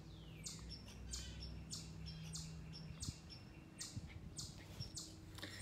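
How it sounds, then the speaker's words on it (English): Birds chirp outdoors on a Saturday morning in Massachusetts, faint repeated short tweets in a regular rhythm over a quiet, low ambient background, somewhat distant. "Lot of birds chirping in the background."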